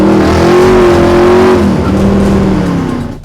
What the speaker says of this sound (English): Is it the sound of a throaty V8?